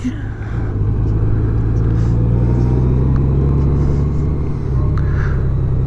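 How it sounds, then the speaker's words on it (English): A Honda Goldwing trike rumbles steadily while riding, its engine drone close and loud and holding a constant pitch, with a slight dip in level near the end. "Following a fellow Goldwing rider here on a trike."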